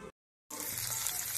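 Tempering spices for rasam crackling in hot oil in a home kitchen, a close, steady sizzle after a short silent gap at the start.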